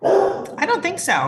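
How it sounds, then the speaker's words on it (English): A dog barks and yips in the background of a school board meeting call, a few short, fairly loud barks mixed in with a person speaking close to the microphone. "I apologize for my dog in the background."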